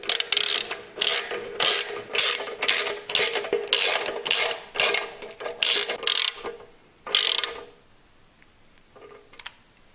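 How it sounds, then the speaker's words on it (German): A ratchet with a 13 mm socket tightens a bolt on an Opel Astra, giving about a dozen sharp clicking bursts in quick rhythmic strokes, close and loud, before falling quiet. "Jetzt mit einer 13er Nuss festziehen."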